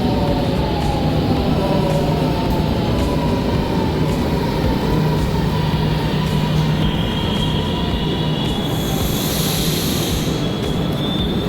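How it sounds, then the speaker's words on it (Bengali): A metro train pulls into a station in Italy, its loud continuous rumble and wheel roar filling the space, with a rising high squeal near the end as it brakes, heard up close with no talking. "ট্রেন চলে আসছে"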